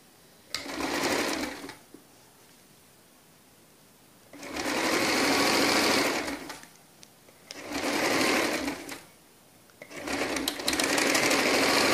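A sewing machine stitches fabric in four separate runs of fast, steady whirring, each lasting one to two seconds, with quiet pauses between them.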